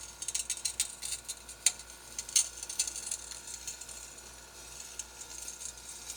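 Ratcheting 5/8 wrench cranking down a tube flaring die on 3-inch aluminum tubing, a quiet run of quick irregular metallic clicks in short bursts, close up and without talk.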